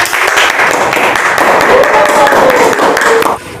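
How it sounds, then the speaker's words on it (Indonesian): A classroom group claps in encouragement for a student group about to present, a dense, loud burst of hand claps with voices mixed in, cutting off near the end. "kita beri tepuk semangat untuk kelompok 1"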